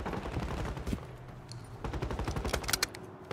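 Gunfire in the Warzone video game: bursts of rapid automatic shots and scattered single cracks, fairly quiet, with bunched volleys toward the end and no speech.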